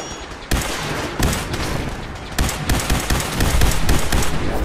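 Gunfire in the Fallout 4 video game, a loud dense volley of rapid automatic shots in bursts with heavy low thumps, continuous and close, with no talk over it.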